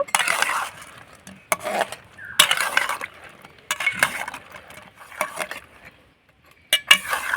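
Rasgulla sweets dropped into sugar syrup in a pot and gently stirred, with a few clinks and scrapes of a utensil against the metal, close by and moderately loud, broken by short quiet pauses.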